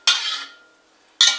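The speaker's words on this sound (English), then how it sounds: "Scrape the caramelized onions to the side because I don't want to like burn it." A metal utensil scrapes caramelized onions across a pan while instant noodles cook: two short, bright scraping strokes about a second apart, close and clear with no voices.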